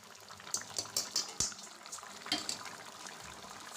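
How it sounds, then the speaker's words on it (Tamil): Raw mango pieces boil in a pot with soft bubbling and a few light clinks of a utensil, faint and close. "மாங்காயும் ஒரு பக்கம் கொதிச்சிட்ருக்கு"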